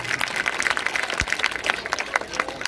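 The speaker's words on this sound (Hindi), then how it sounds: "दोनों हाथ के एक बार जोरदार ताली बजाइए इन दोनों मम्मी के लिए" Audience clapping for two mothers at a school event, a steady patter of many hands that holds at an even level throughout, with light crowd noise mixed in.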